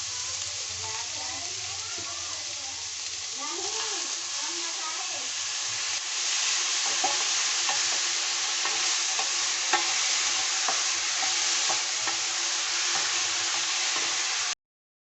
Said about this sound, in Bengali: লাউটা আমি ঘি দিয়ে ভেজে নেব।